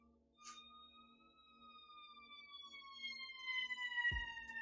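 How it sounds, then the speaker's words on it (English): A distant siren wails steadily with a gradually falling pitch, faint against low background hum, ending with a sudden thump nearby. "I hear a siren."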